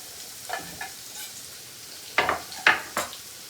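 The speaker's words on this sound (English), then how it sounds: "So let's add the garlic first." Garlic fries in hot oil in a pan, giving soft bursts of sizzling and a few sharper crackles as it is stirred, close and moderately quiet, with no talking.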